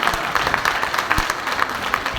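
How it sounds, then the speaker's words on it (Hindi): Clapping from the audience at an evening religious discourse by a Jain monk, a short run of hand claps in a reverberant hall with individual claps standing out. "तालियां बजाओ।"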